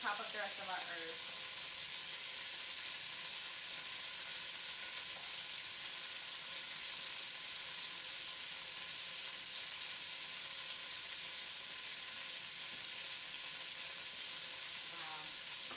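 Chicken sizzles and fries steadily in a hot pan, a continuous close hiss with light crackle that holds evenly throughout, with brief clatter near the start and end.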